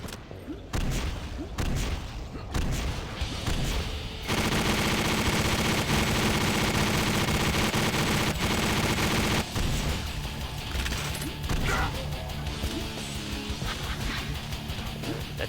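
Rocket launcher fire in the shooter Painkiller: a loud, dense barrage of repeated booming shots and explosions, nearly continuous with short lulls between volleys.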